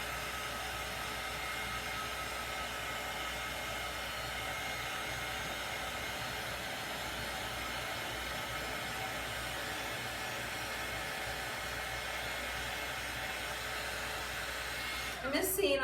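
A hair dryer blows steadily to dry paint, a constant close whooshing roar that runs unbroken for the whole stretch and ends with a brief clatter.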